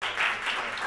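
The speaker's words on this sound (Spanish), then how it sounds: "Quiero dar un fuerte aplauso a vosotras." Applause from an audience at a book presentation for a social novel, a steady continuous wash of clapping lasting about a second with no talk over it.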